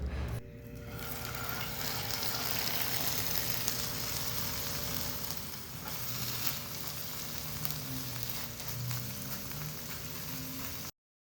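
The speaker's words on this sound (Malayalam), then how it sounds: "ഇനിയിപ്പോൾ നമ്മൾ നേരത്തെ മാരിനേറ്റ് ചെയ്ത് വെച്ചിട്ടുള്ള ചിക്കൻ ഒന്ന് ഫ്രൈ ചെയ്തെടുക്കണം" Marinated chicken frying in oil in a pan, a steady, dense sizzle that runs the whole time with no one talking, and it ends abruptly.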